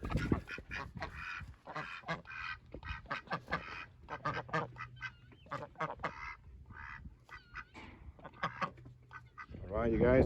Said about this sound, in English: these are my Cayuga ducks